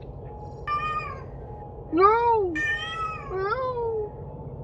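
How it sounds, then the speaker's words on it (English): Cat in heat giving several drawn-out, wavering meows and yowls, fairly close and loud, one after another over a low background hum, with someone shouting a single word between them. "that's got one horny cat over there"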